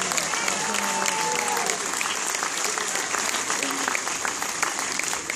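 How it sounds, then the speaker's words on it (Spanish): Crowd clapping during an award ceremony at a Star Wars fan event, steady loud applause with voices and cheers mixed in throughout. "Fuerte aplauso, vamos, fuerte el aplauso."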